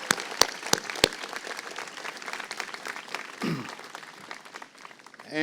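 A high school graduation audience claps for the senior speakers, opening with a few sharp, separate claps that swell into sustained applause, with faint voices and a rising sound at the end.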